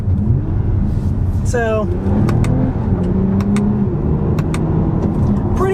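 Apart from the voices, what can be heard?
Toyota Camry TRD shifting gears with paddle shifters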